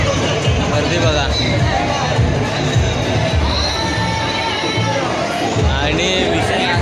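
A dense festival crowd gathered for Bakasur in Chiplun, a continuous loud roar of many voices with shouting children and bursts of cheering throughout, close and enveloping.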